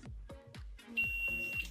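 A steady high electronic beep rings for about half a second from a multimeter continuity test on a USB cable, with soft clicks and handling noise around it.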